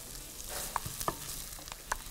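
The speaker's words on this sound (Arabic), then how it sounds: "اول ما السمنه بتقدح" Onion fries in sizzling ghee, a soft steady crackle with a few light clinks and stirring taps, faint and without talk.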